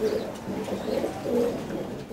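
Pigeons of mixed breeds, including racing homers and Jacobins, on a pigeon farm of about seventy pairs, cooing in repeated low throaty phrases close by, with a steady background hum.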